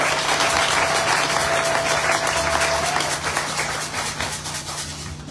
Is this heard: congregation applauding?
yes